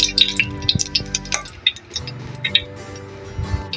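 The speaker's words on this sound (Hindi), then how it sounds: "यहाँ पे इलायची और लौंग ऐड कर देंगे। इसे क्रैकर कर लेंगे।" Cardamom pods and cloves crackle in hot ghee in a pan while making zarda sweet rice, sharp pops and clinks scattered irregularly and close, louder in the first half, with no talking.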